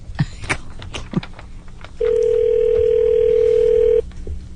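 A steady telephone dial tone holds for about two seconds while a call is being placed, preceded by a few faint clicks and handling noises.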